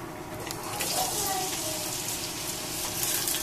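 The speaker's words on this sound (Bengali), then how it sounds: "তেলটা গরম হতে হতে আমরা এখন এখানে পেঁয়াজ গুলো ছেড়ে দিই" Chopped onions dropped into hot oil for a Bangladeshi beef curry give off a steady, close frying hiss and crackle that lasts the whole time, with a faint voice in the background.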